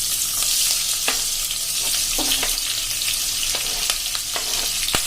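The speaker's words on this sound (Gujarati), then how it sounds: "એમાં આપણે આ જે મરચા સમાર્યા છે એ નાખી દઈશું" Chopped chillies frying in a crackling masala with turmeric for besan sambharo, a loud steady hiss of hot oil with scattered spatula taps and scrapes.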